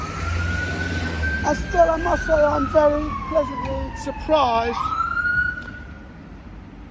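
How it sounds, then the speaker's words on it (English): An ambulance siren wails past on a street, its pitch sweeping up and down loudly close by, then falling away as it passes, while someone talks over it. "There's an ambulance."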